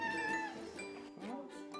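Cat at an animal shelter, meowing in a couple of close, clear, drawn-out calls with rising and falling pitch.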